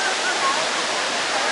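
Jeongbang Falls in Jeju, a waterfall pouring onto the rocks, heard as a steady broadband roar of falling water, loud and continuous with no break.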